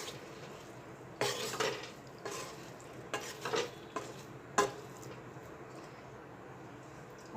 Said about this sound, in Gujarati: હવે બધું સરસ મિક્સ કરી લઈશું।